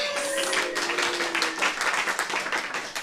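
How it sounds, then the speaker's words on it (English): Audience applause at a fungus fair talk on truffle cultivation, a dense wash of many hands clapping at steady loudness for the full stretch, with a brief tone early on and no clear speech over it. "please give a wonderful round of applause to our speakers that are happening today"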